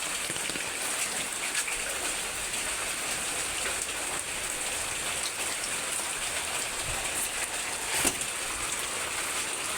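Heavy rain pours steadily onto surfaces, a dense, even hiss that fills the whole scene without pause, with no voices.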